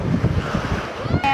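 Sea waves wash onto a beach in a soft rolling surge, mixed with wind buffeting the microphone at close range.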